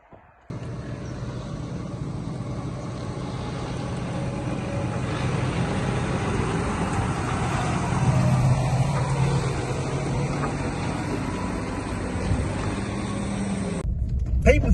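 A vehicle towing a trailer rolls down a drive at a busy site, a steady low engine rumble with road noise that stays fairly even throughout, heard from inside the following vehicle.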